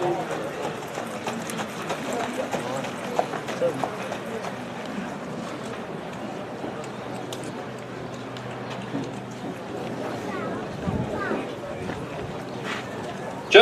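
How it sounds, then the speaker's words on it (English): A three-year-old Saddlebred mare's hooves clip-clop on the ground as she enters the sale ring at an American Saddlebred horse sale, a steady moderate beat under continuous talk from the auctioneer and the crowd. "Here comes the horse"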